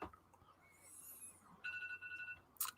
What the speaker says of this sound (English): But can you hear ringing in the background? I think my alarm's going.